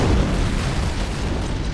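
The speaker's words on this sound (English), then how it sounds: "It must have been one of their boarding parties. I'd guess an antimatter charge." A loud, heavy explosion tears through a ship in a Halo: Combat Evolved cutscene: a deep booming blast followed by a sustained low rumble that fills the whole moment without any voices.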